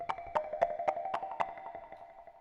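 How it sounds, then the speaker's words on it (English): A Sakura synth coconuts patch, with coconut shells knocking together. About six hollow wooden clacks come in a quick, fairly even rhythm with a ringing tonal hum beneath them, then fade out, alone and moderately quiet. "As the name suggests, it's coconuts banging each other."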